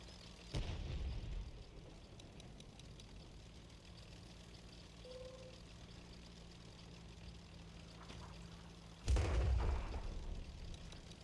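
Two loud artillery shell blasts boom in World of Tanks, one early and one near the end, with a quiet engine idle rumbling in between.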